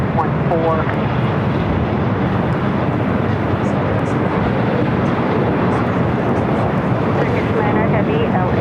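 An Emirates jet airliner takes off from runway 24 left at LAX with a loud, steady broadband roar that holds throughout, while faint radio voices come and go beneath it.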